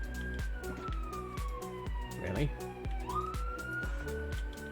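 Police sirens in the video game Minecraft wail with rising and falling pitch sweeps over a steady, rhythmic game backdrop, while a voice speaks briefly.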